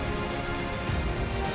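Heavy monsoon rain in Gujarat pours steadily onto surfaces, a dense continuous hiss and patter that stays loud and even throughout, without any voices.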